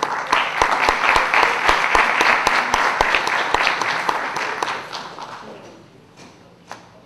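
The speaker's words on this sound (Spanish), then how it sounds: "Fuertes aplausos para una magnífica clase de sustancia." Loud applause from a lecture audience after an inaugural class on arbitration, a dense steady clapping that fades out over the last seconds, with a few sharp individual claps standing out.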